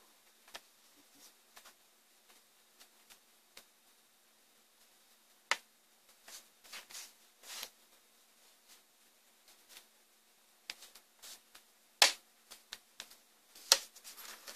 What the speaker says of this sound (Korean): 이렇게 하다 보면 이제 딱딱딱 소리가 나게 되는데요